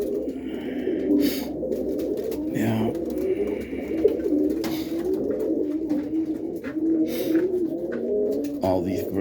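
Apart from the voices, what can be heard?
racing pigeons cooing in a loft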